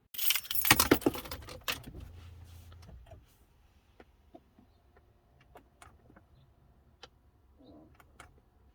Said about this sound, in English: So let me turn that car on real quick.